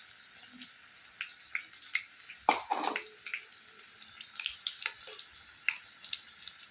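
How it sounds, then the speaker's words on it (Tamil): Okra pieces for vendakkai 65 deep-frying in hot oil, a quiet bed of fizz broken by scattered sharp pops and crackles, with a denser burst of spatter partway through. "இதில் வந்து போட்டு பொரிச்சு எடுத்துக்க போகிறோம்."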